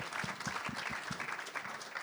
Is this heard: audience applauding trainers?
yes